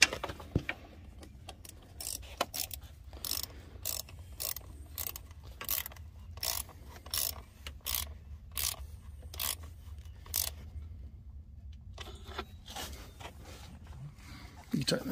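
A ratchet on an extension clicks in quick strokes while tightening injector bolts on a Gen 1 Toyota Prius, sharp repeated ticks in short bursts with soft talk and workshop noise between.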